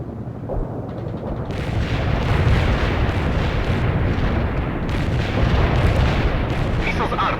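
An artillery barrage in World in Conflict rumbles as continuous heavy explosions and booming impacts, a dense, loud roar rising after the first second and holding steady throughout, with radio voices mixed in.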